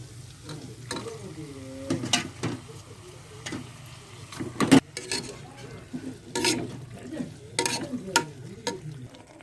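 Mutton pieces for Chettinad mutton gravy fry in a pan, with a low steady sizzle broken by irregular loud scrapes and clatters of a spoon stirring them, close by, with no talking.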